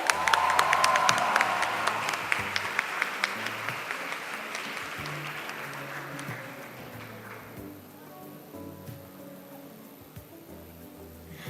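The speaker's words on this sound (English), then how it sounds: "let's have another round of applause for Arnav Fartare" An audience at a school Model United Nations closing ceremony breaks into full applause that starts strong, then thins and fades over several seconds, leaving a low, steady background hum.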